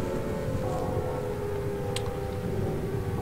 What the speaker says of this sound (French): il se met à faire nuit avec les fameuses sirènes